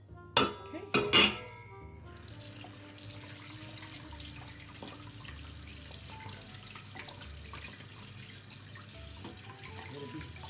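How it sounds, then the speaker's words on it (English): A kitchen tap runs steadily as water rinses fish scales off a salmon, following a few sharp clatters at the start, with faint splashing under the stream. "rinse it off completely, get all the scales off of it."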